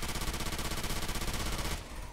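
Sustained rapid automatic gunfire from Left 4 Dead 2, a dense, loud rattle of shots that runs steadily and then cuts off near the end, leaving a softer tail.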